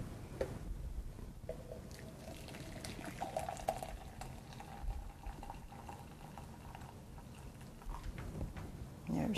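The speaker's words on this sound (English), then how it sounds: "then we'll pour our coffee, about 300 milliliters in each container" Coffee poured into two containers, about 300 milliliters each, making a soft, steady liquid splash and trickle that stays faint and continuous with a low background hum.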